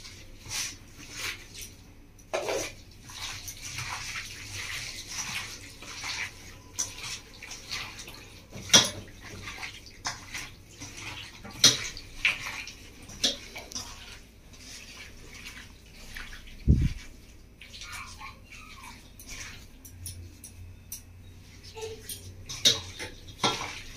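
Mutton is worked by hand with salt and spices into a marinade in a metal bowl, giving soft wet squelching and intermittent clinks of metal, faint and irregular throughout, with no talk.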